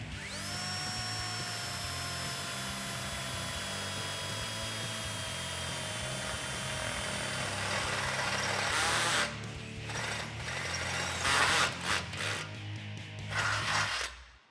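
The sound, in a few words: electric drill boring through steel frame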